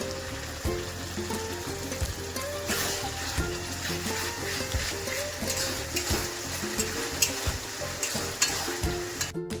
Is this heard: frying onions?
yes